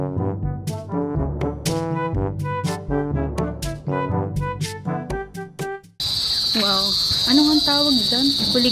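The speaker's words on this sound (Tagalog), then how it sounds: "Kuliglig, cricket." Music with a singing voice for several seconds, then a steady, shrill cricket trill takes over, continuous and fairly loud, with a voice talking beneath it.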